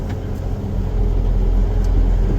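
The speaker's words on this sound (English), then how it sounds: "Now we'll just casually drive down our driveway and park on the pad over there" A vehicle put in low gear drives slowly down a farm driveway, its engine a steady close rumble that swells slightly partway through, with no talking.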